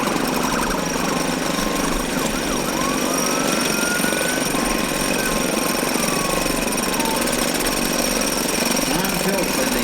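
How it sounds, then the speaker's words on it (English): A small David Bradley tractor, about 1.5 horsepower, runs in a Montana centennial parade with a steady rattling engine drone, loud and continuous, while a voice speaks over the outdoor street noise. "Here's the little David Bradley tractor,"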